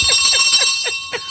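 A ringing bell sound effect on a radio show, bright metallic tones repeating rapidly for about a second, loud and close with no talking over it.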